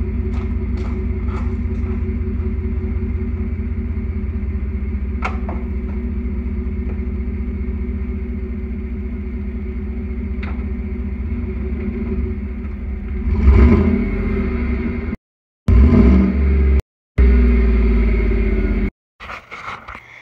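A 2018 Chevrolet Silverado pickup with a Dynomax exhaust idles with a deep, steady exhaust rumble at startup, then a few sharp throttle blips rise and cut off abruptly near the end.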